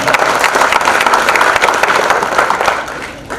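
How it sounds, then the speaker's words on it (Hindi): Loud, dense applause from a large audience at an award programme in Mumbai, continuous and close, holding steady for about three seconds before easing off slightly. "इन मौलाना हजरात के लिए जोरदार तालियां"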